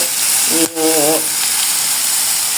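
Bay leaf, black pepper, ginger and garlic fry in hot oil with a steady close sizzle that runs the whole time, broken by a brief tonal squeak partway through.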